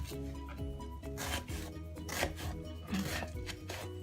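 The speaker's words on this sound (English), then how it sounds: "Cut the onion into very small pieces, like that size." A knife chopping an onion into small pieces on a board, quick soft rhythmic taps over a steady low hum, close and fairly quiet.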